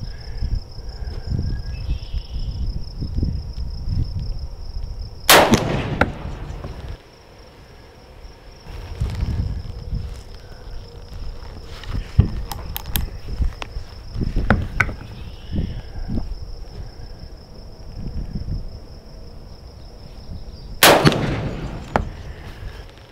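An 1847 Colt Walker revolver fired at a range, two sharp, loud shots far apart with primers blowing back, set against a constant high cricket-like whine, low rumbles and scattered clunks.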